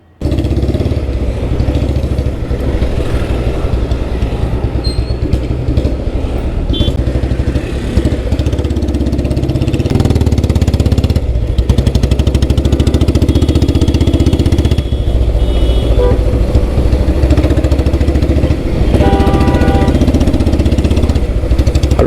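A Royal Enfield Bullet motorcycle, a heavy-crank vintage model, runs steadily and loudly for the whole stretch, a dense low thumping engine note that stays close and continuous with no talk over it.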